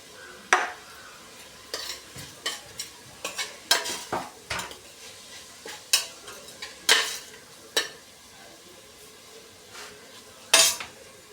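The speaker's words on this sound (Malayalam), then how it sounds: "പച്ചമുളക് വേവുന്നത് വരെയും എല്ലാം നല്ലപോലെ ഇളക്കി കൊടുക്കണം" A spoon stirs vegetable biryani masala with green chilies in a pot, producing irregular metallic scrapes and clanks against the pot over a faint sizzle, without talk.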